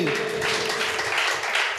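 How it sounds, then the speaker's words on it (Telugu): A church congregation at a Sunday service claps loudly and continuously, forming a dense, even wash of applause. "గట్టిగా చప్పట్లు కొట్టండి."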